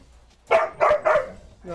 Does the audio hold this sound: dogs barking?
yes